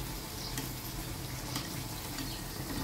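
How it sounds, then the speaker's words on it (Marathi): Puris made with jaggery frying in hot oil, a steady close bubbling sizzle with a few faint crackles, quiet and continuous with no voices. "सर्व पुऱ्या अशा तळून घेते."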